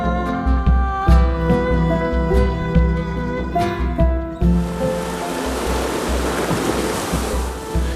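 Mediterranean sea waves at Hatay wash in as a steady surf, with a rhythmic low rumble that gives way to a broad, hissing rush of breaking water partway through.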